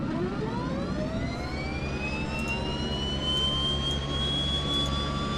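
A Twin Otter turboprop engine in a flight simulator game spools up on its starter, a steady drone under a whine that climbs smoothly in pitch and then holds.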